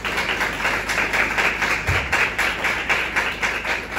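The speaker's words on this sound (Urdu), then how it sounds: "خداوند کے جلال کے لیے زوردار تالیاں۔" A church congregation claps loudly and steadily, the dense, rhythmic hand claps continuing evenly throughout with no talk.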